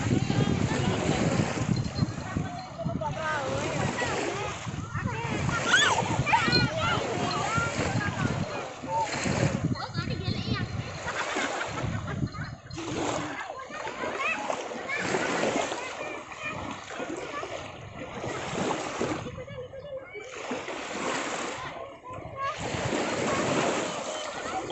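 Sea waves at Bandar Segaran beach wash and splash steadily in a loud, continuous rush with wind buffeting the microphone, while children's voices call out over the surf.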